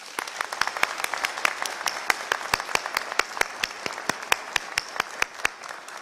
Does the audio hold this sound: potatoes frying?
no